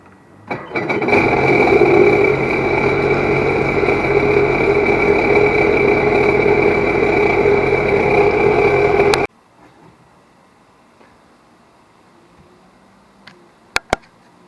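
A four-stroke Sea-Doo personal watercraft engine starts and runs at a steady, loud idle for several seconds, then cuts off abruptly, leaving quiet with a couple of sharp clicks.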